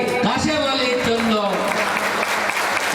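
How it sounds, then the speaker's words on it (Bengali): Audience clapping for Kashem Ali at a blood donation camp, a short burst of applause mixed with a voice speaking over it. "আজ আমাদের সেই কাশেম ভাই হয়ে যাক একটা করতালি কাশেম আলীর জন্য"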